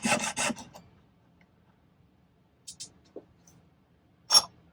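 A few short rasping strokes of a jeweler's saw on silver, a quick burst at the start, then isolated scrapes separated by quiet pauses.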